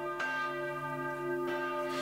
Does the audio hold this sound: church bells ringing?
yes